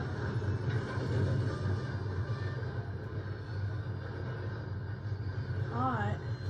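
A supply train rumbles steadily in the western game Red Dead Redemption, a continuous low roar filling the scene, with a short warbling tone near the end.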